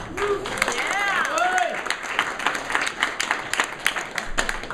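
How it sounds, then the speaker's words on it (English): Audience at Rooster T Feathers comedy club in Sunnyvale claps for the host, a steady burst of applause with some cheering voices on top, then someone speaks over the fading claps. "One more round of applause for your host here."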